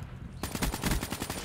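Automatic gunfire in Call of Duty: Black Ops 3, a rapid burst of shots that starts abruptly after a quiet moment and rattles on loud and steady to the end.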